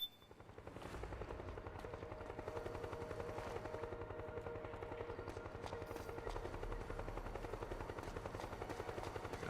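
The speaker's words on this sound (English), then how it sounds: "I hear a helicopter too." Steady rapid thumping of a helicopter's rotor in the video game Metal Gear Solid 4, a continuous chopping drone that holds at moderate loudness throughout.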